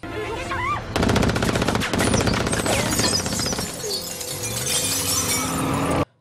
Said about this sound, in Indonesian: datanglah seseorang penjahat yang memakai mobil mau menembaki Raina.